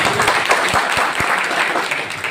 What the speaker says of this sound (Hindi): सबसे पहले जोरदार तालियों से स्वागत कर दीजिए